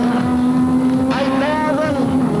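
Onboard a Mitsubishi Mirage race car at Oran Park circuit in 1999, the engine drones loudly and steadily under acceleration with a rising whine, while a driver talks over it.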